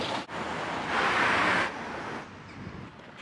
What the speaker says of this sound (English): You can probably hear there's quite a wind blowing today